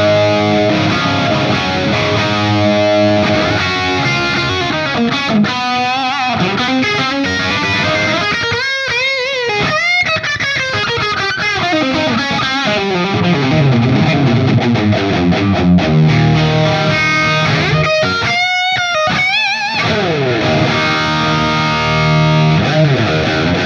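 Distorted electric guitar played through a modded Marshall JCM800 2203 horizontal-input amp, with heavily overdriven chords and riffs ringing out loud and continuous, alone without any talking.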